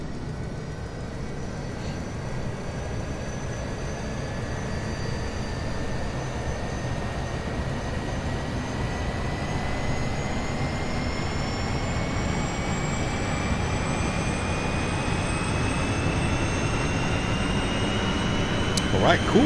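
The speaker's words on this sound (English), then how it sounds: "we'll go ahead and spool up the APU" The A32NX auxiliary power unit spools up in Microsoft Flight Simulator with a steady turbine roar and a whine that slowly climbs in pitch, building gently over about twenty seconds.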